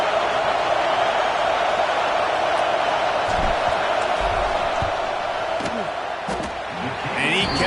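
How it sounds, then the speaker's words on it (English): A loud stadium crowd in an NCAA 26 college football video game roars steadily through a field goal attempt, a dense, unbroken wash of noise trying to rattle the kicker, with a few sharper shouts near the end. "This crowd trying to do its part to get inside the kicker's head."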